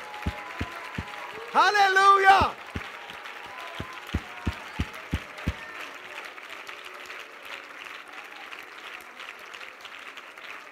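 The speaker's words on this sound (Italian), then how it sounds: "All the tithers in the house, clap your hands right now." A church congregation applauds during a sermon, a soft wash of clapping beneath a short loud shout of praise, with sharp evenly spaced beats punctuating the first half before the applause continues at a lower level.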